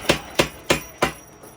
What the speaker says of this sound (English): But I'll draw it out a little more on the power hammer.